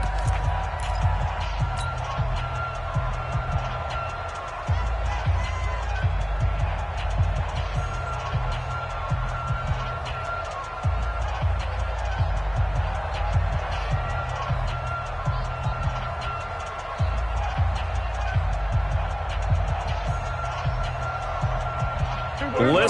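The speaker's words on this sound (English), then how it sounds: "Listen to this crowd now." Stadium crowd roar in an American football video game before a two-point conversion, a constant loud wash of cheering with a low rumble, a commentator's voice talking over it.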